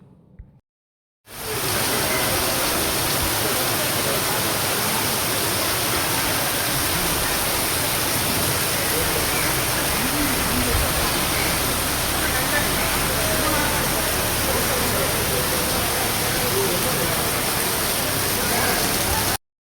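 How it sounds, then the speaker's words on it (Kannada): Heavy monsoon rain pours at Sowthadka as a loud, dense, unbroken roar that starts after a brief quiet moment and holds steady throughout. "ಸೌತಡ್ಕದಲ್ಲಂತೂ ಸಿಕ್ಕಾಪಟ್ಟೆ ಮಳೆ"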